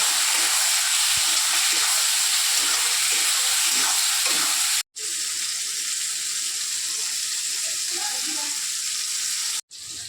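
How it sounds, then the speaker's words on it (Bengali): Garlic, chilli and onion fry in a pan, giving a strong, steady sizzling hiss that runs nearly the whole time, broken by two brief cutoffs. "এটা হালকা করে একটু লাল করে ভাজবো"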